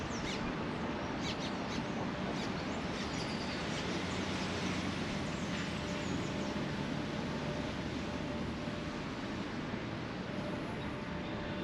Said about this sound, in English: it's just so lovely to hear all the birds.